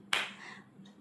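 A single sharp hand clap rings out close by in a quiet room, as part of a children's Tamil family-words lesson, then fades into silence.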